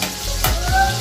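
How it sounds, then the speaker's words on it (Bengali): Butter sizzling in hot oil in a kadai, a close, steady frying hiss with a couple of soft stirring scrapes. "দেখো বন্ধুরা, আমি কড়াতে তেল দিয়ে দিয়েছি, দেখতে থাকো। বাটার দিয়ে দেবো।"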